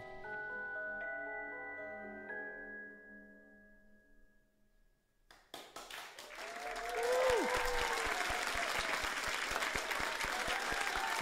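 Applause bursts in during a Minecraft livestream event, following a fading musical chord, then swelling into loud, sustained clapping with whoops and cheers from a crowd.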